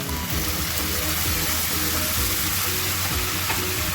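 Tomato puree goes into spices frying in a pan for homemade pizza sauce, giving a loud, dense and continuous sizzle that holds steady throughout, close up, with no talking.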